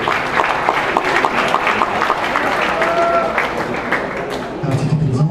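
A school audience at a Polynesian day event in Papara applauds a student, steady clapping from a crowd filling the room, with some voices mixed in.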